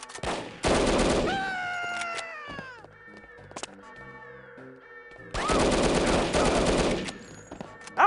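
Bursts of rapid gunfire in No One Lives Forever, two long loud volleys of clattering shots separated by a quieter stretch of scattered single shots and mechanical clicks, with a yowling cat-like cry in the game mix.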